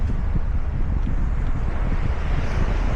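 Strong wind buffets a microphone on the River Mersey shore, a steady dense low roar with constant gusting rumble throughout and no voices.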